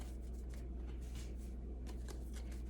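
Playing cards being shuffled, a quiet ruffling patter of a few quick riffles close by, with no talking.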